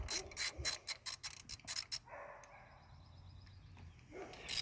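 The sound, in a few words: pipe wrench loosening intake studs on a Mercruiser engine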